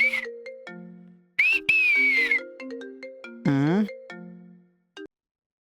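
A melodic phone ringtone of clear electronic tones and chirps plays for an incoming call, close and loud in short phrases with brief gaps, ending abruptly.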